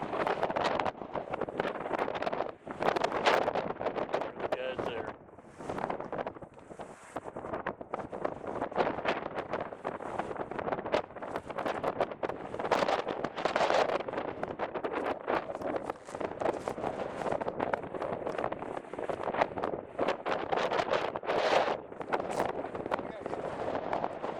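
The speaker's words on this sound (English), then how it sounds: "Cold, windy day, front's moving in." Gusty wind on a cold day with a front moving in buffets the microphone in rough, uneven bursts throughout, loud and close, while a person talks now and then.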